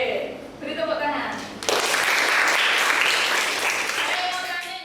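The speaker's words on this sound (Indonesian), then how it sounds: "beri tepuk tangan" A classroom full of students breaks into applause, a sudden burst of clapping that starts after a short stretch of talk and holds steady, fairly close and loud.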